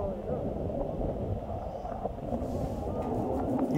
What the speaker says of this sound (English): Powerful winds are accompanied by gusts